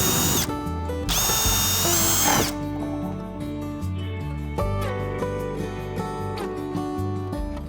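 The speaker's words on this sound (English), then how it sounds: "most of the holes are drilled" A power drill bores holes through a plastic boat hull being prepared for a raised waterline, with sharp loud bursts of high-pitched whine followed by steadier, lower drilling, close and continuous with no talking.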